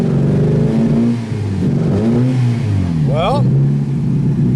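A bent-up Nissan Sentra derby car with its hood open, engine idling roughly with a spitting, sputtering note close by, while someone talks over it throughout.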